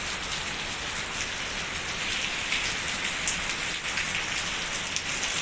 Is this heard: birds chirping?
no